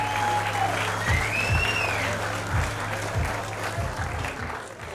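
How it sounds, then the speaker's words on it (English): An audience at a live stand-up comedy semi-final applauds a comedian with sustained, dense clapping, while a host's voice speaks over it near the start. "One more round of applause."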